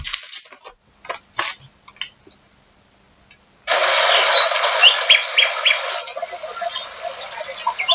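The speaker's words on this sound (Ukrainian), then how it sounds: "І водичка дзерчить, напевно, десь струмочок в лісі. І пташечки співають." Bird chirps and tweets sound in scattered short bursts, then a dense stretch of birdsong joins a continuous rushing wash like a forest stream, fairly close and clear.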